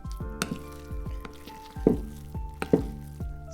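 Mashed tofu is stirred into pancake mix in a bowl, with a steady series of soft squishy, thudding strokes and a few sharper clacks, close and alone.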